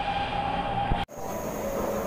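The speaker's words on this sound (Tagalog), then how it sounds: "Yan, may dumaan ang train." A train passes close by on an urban rail line during a transfer between trains, a steady loud rumble and hiss that briefly cuts out midway, then resumes with a thinner whine.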